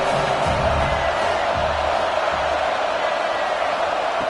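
A dense stadium crowd roars continuously at a USC college football game, a steady broad wash of cheering with no breaks.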